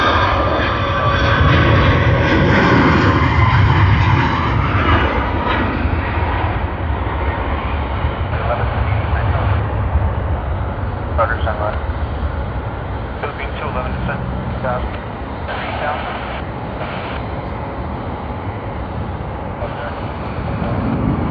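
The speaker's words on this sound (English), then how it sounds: "Boeing 737-8" A Boeing 737-8 Max 8 airliner lands at Sydney Airport, its engines producing a loud, steady broadband roar that slowly eases, with a voice talking over it.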